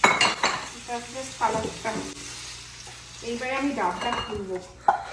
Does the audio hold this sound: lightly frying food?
yes